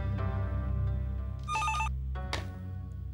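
A household telephone rings once in a short, bright electronic burst, followed by a brief sharp sound, over a steady low hum and faint background noise.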